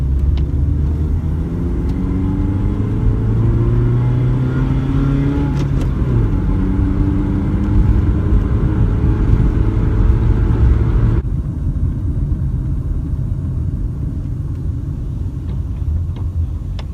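A Mercedes-Benz W202 engine pulls steadily up a steep incline in second gear, with a continuous loud, close rumble and rising revs that settle into a lower, steady drone partway through.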